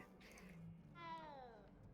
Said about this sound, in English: Professor Black is petting the cat.